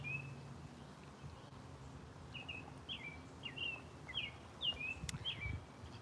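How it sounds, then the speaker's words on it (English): Birds singing outdoors, a series of short bright chirped phrases repeating every half second or so, moderately distant over a low rumbling background, no talk. "Don't the birds just sound so beautiful?"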